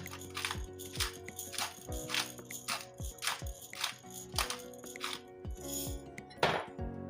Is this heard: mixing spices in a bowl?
yes